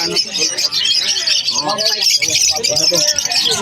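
Emerald cockatiels at a Bocaue pet market chirp and squawk continuously, with other caged birds mixed in, loud and close while people talk nearby.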